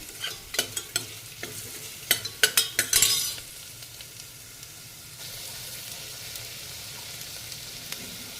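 Mushrooms sauté in a pan while spices go in, a run of sharp metallic spatula scrapes and taps over a gentle frying sizzle, then a softer steady hiss.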